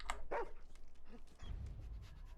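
A dog barks in the Fallout 4 video game, two sharp close barks at the start followed by a short whimper, then a low rumbling game ambience carries on underneath.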